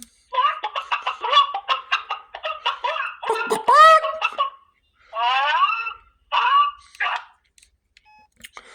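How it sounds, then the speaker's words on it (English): A frantic squawking chicken ringtone plays loudly: rapid clucking bursts, a drawn-out crow, then a few more short squawks before it stops. "I always like that crazy chicken ringtone."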